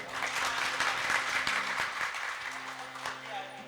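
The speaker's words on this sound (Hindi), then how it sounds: "तालियां बजाओ" Audience applause at a religious gathering led by a Hindu preacher, steady broadband clapping from a crowd under a voice that carries through.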